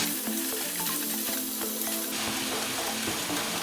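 Squid sizzles steadily in a hot pan for adobong pusit, with tomatoes sautéed in it, a continuous close frying hiss broken by a few light clinks of stirring.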